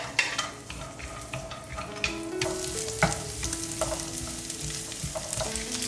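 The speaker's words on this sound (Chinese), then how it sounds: "把腊肉跟腊肠放进来，煸出油。" Diced cured pork and Chinese sausage frying in a wok with a little oil to render their fat, a steady close sizzle with repeated spatula scrapes and metallic clinks against the wok.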